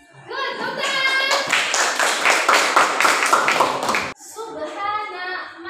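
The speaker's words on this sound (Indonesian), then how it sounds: "Good, tepuk tangan." Classroom of children clapping in a rhythmic pattern together, with chanting and children's voices over the claps; a short gap, then more voices.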